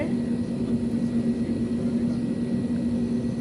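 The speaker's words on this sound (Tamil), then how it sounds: "இன்னொரு ஃப்ளைட்டு டேக் ஆஃப் ஆகுது" A passenger airliner takes off from the runway, heard from another plane waiting nearby as a steady low rumble with a droning hum that stays even throughout.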